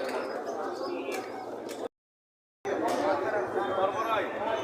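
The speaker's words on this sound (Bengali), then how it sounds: "এই যে গিরিবাজ এক জোড়া কবুতর দেখতেছেন আপনারা খুবই সুন্দর" Giribaz pigeons coo at the busy Mirpur pigeon market in Dhaka. Soft cooing and bird calls mix with crowd chatter and market noise, and the sound drops out briefly to a gap of silence partway through.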